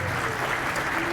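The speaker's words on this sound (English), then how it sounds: "big round of applause, please, for Bruce Brown" Audience applause at a convention center ribbon cutting ceremony, a brief, steady wash of clapping from a crowd, heard only for a moment.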